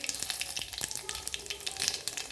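Mustard seeds, cumin and curry leaves crackle and sizzle in hot oil, a busy stream of sharp pops and spits over a soft steady hiss, close up and with no talk.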